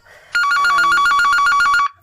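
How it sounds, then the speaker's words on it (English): A phone sounds a loud, close electronic ringing notification, a rapid trilling tone lasting about a second and a half, with quiet before and after and no voices. "I was looking for my phone. I'm using it, so sorry, excuse that, someone sent me a message."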